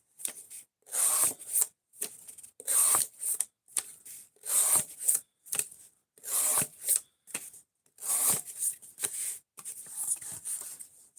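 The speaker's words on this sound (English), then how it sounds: "we're just cutting boxes on this stream" An S35VN steel knife slices through cardboard boxes in a series of short, dry rasping strokes, about a dozen close bursts separated by brief pauses.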